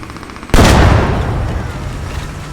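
An anti-tank LAT rocket fires in the Squad battle game with a sudden loud blast that booms and then rolls away over a couple of seconds, with a faint rumble of gunfire underneath.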